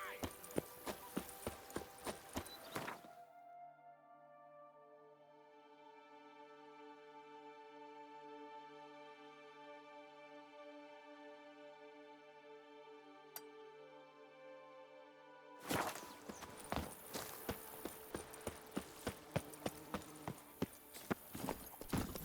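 Horse hoofbeats from Roach in the video game The Witcher 3, a rhythmic clip-clop heard at the start and again at the end, with sustained tonal music filling the quiet middle stretch.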